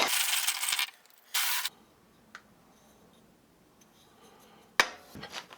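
Plastic FASTcap ratchet tile leveling caps being handled and shaken, a loud rattling clatter in two bursts, then a couple of small clicks and another clattering rattle near the end, close up and without talk.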